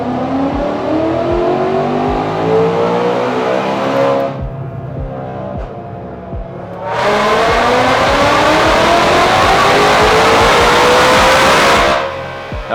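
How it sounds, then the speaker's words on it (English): A Ford GT500 running E85 with an Apex system pulls hard on a chassis dyno, engine climbing loud through two long wide-open runs with gear-change breaks, then cutting off near the end. "So we're gonna run this thing on the dyno and see how it does."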